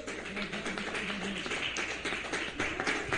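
A church congregation claps hands together in a dense, steady stream of overlapping claps, moderately loud and without speech.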